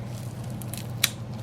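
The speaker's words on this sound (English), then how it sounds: "This is a scissor that just has multiple things, so you don't have to cut as much." Multi-blade kitchen scissors snip once, a single short crisp cut near the end of a quiet stretch with a low steady room hum underneath.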